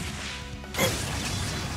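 A single sharp shattering strike from the Armor Breaker attack in the role-playing game Trails of Cold Steel, hitting with a loud crash over a steady bed of battle music and effects.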